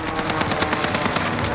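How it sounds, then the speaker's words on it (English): Rapid bursts of automatic gunfire ring out from a hilltop in a multiplayer shooter match on Caldera, dense and continuous with sharp repeated cracks throughout. "They're shooting them from on top of the hill"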